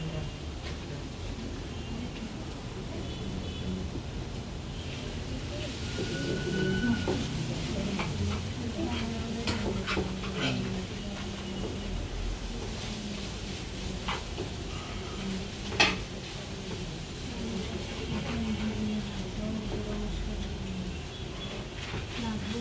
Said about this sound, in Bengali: চিকেনটাকে জাস্ট হালকা একটু ভেজে নেব।